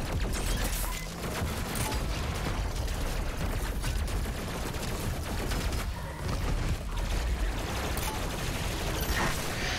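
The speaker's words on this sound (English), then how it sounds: "Those shields explode if you fire enough plasma at them." Dense, continuous bursts of plasma gunfire and explosions from the video game Doom Eternal, loud and chaotic with rapid overlapping blasts filling the whole stretch.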